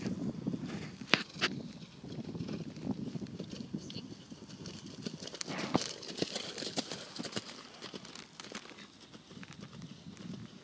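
A horse canters during dressage training in an arena, its hoofbeats soft and rhythmic at a moderate distance, with occasional thuds and clinks under a steady background hiss.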